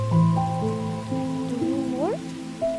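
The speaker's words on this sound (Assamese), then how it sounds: "আজি বৰষুণ জাকত সঁচাকৈ তিতিম।" Rain falls in a steady patter beneath a soft, slow melody of sustained gliding tones that dominates the foreground.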